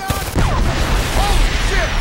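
Video game gunfire in Homefront, a sustained rattle of shots and booming impacts over two seconds, close and loud, with faint shouting voices mixed in.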